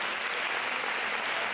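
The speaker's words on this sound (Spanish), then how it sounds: "Vamos a llamarlos aquí a todos para darle un aplauso a Eva y Nancy de Tina y Tona, Cuentacuentos." Audience applause for storytelling performers at an artists' presentation, steady dense clapping filling the whole moment without a break, moderately loud and close.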